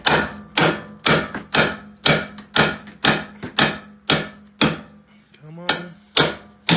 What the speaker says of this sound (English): Just whack that with a hammer.